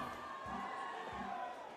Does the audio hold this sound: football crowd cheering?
yes